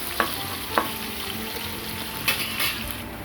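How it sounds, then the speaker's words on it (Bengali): Chopped onions fry in hot oil for instant spicy ramen noodles, a steady sizzle broken by a few sharp scrapes and clicks of a spoon stirring against the pan, close and fairly loud, with no voices. "তো ফার্স্টে পেঁয়াজটা একটু হালকা ভাজা করে নিচ্ছি।"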